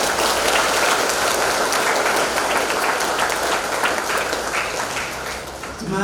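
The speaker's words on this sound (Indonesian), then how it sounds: "Kita berikan dukungan dengan simbol memberikan aplaus untuk mereka." A church congregation at a Sunday service applauds with steady, dense clapping that stays loud for several seconds and then eases slightly toward the end.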